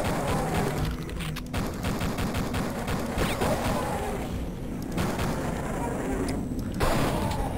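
Machine-gun fire in Duke Nukem 3D, shown on a derelict level: dense, continuous automatic gunfire with booming impacts that runs the whole stretch, loud and close, while a player talks over it.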